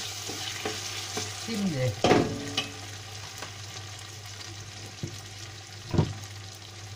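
Peppers sauté in a pan with a steady close sizzle, broken by a few sharp clatters and scrapes of stirring. A brief spoken word comes in near the start.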